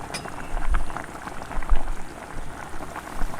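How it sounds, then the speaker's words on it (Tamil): Vegetable kurma bubbles steadily in a pot on the stove, a close, continuous rolling simmer with soft popping and gurgling and no talking. "நல்லா கொதிச்சிச்சு."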